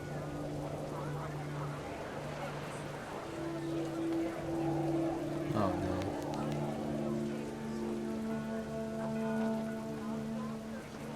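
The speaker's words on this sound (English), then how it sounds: "Rain came down in buckets then" Steady heavy rain falls in the video game What Remains of Edith Finch, a constant hiss under sustained musical tones and a brief swooping effect midway.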